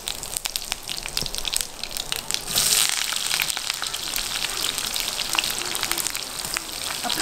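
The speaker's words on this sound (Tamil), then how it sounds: "அப்புறம் ரெண்டு வெங்காயம் ஸ்லைஸ் பண்ணது இது நல்லா வேகட்டும்" Sliced onions with curry leaves frying in a pan, a steady crackling sizzle with scattered pops that swells slightly partway through, close and continuous.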